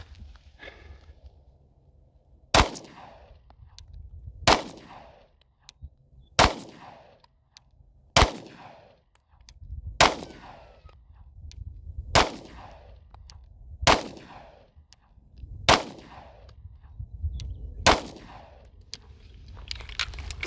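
S&W Shield X handgun fired offhand outdoors, ten sharp loud shots spaced about two seconds apart in a steady rhythm, each with a short ringing tail.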